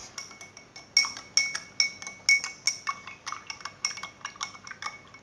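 A metal spoon stirring tea clinks rapidly and rhythmically against the inside of a cup, a close, bright series of ringing taps with no talk.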